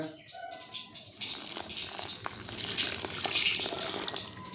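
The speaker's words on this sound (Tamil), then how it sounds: "இதில் வெந்நீர் போட்டு பிசைஞ்சு எடுத்துக்கலாங்க" Hot water pours with a gushing splash into rice flour being mixed and kneaded into dough for village-style kozhukattai, close-up and continuous, with no speech.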